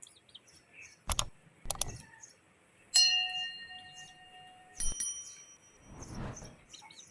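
Baby chicks chirp in scattered short peeps, struggling through hot weather, mixed with a few sharp clicks and a brief bright ringing clink, fairly quiet and close by.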